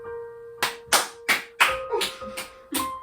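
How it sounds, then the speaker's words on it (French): One person clapping hands about seven times in a loose, uneven rhythm, each clap sharp and close, over a steady faint tone. "J'applaudis."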